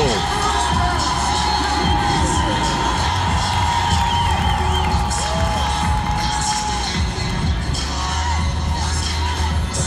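Crowd at a Lingerie Football League game between Seattle Mist and LA Temptation cheering and shouting steadily, with whoops and children's voices, loud and continuous throughout the ten seconds.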